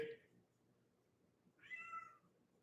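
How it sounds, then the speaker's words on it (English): A cat meows faintly indoors. There is one short mew at the start, and a longer, clearer meow follows after a quiet pause over a low background hum. "The cat's coming."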